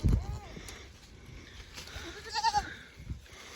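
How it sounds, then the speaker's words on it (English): Goats bleat in short bursts amid farmyard rustling as a tree is pushed down for them to browse, with a loud low thump at the start and occasional voices nearby. "These goats are like piranhas in here when I push these trees down."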